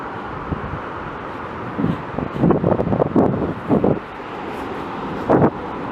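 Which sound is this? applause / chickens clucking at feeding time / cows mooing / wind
wind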